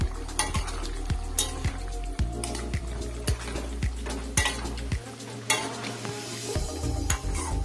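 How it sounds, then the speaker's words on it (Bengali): Prawns cooking with pointed gourd in a curry in a pan, a regular series of sharp spoon-on-metal taps and scrapes over a bubbling, sizzling bed, close and fairly loud, with no talking. "এবার চিংড়ি মাছ দিয়ে আমি আরও 2-3 মিনিট ফুটিয়ে নেব।"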